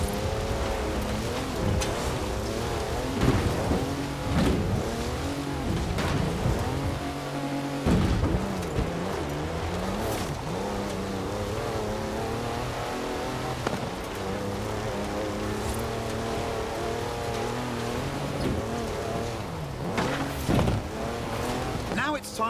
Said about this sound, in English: It also has 340 horsepower, more torque than a cruise ship, and gets to 60 miles an hour in just over 5 seconds.